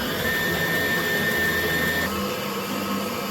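An electric mixer whisking butter and sugar for Christmas butter cookies gives a loud, steady whirring drone with a constant high whine, unbroken and alone.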